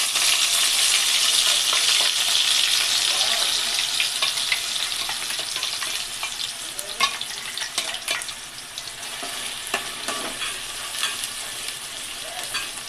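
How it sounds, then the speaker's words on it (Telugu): Onion paste fries in hot oil for a Maharashtrian-style chicken curry, giving a steady close sizzle while a spoon stirs and scrapes the pan, the scrapes turning into sharper clicks toward the end. "ఉల్లిగడ్డ పేస్ట్ బ్రౌన్ అయ్యేంత వరకు కలుపుకోవాలి"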